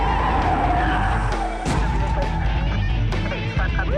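A stolen Mustang races toward a police roadblock, its loud, continuous engine roar mixed with skidding tires and brief sharp bursts of noise.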